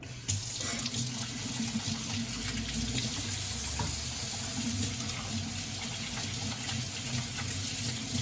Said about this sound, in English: Just wash my hands again.